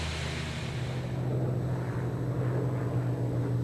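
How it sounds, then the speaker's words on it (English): A steady, droning roar of a Lancaster bomber's heavy piston engines passing over a village in Oxfordshire, a low rumbling hum that holds constant throughout. "these big engines coming over our village in Oxfordshire"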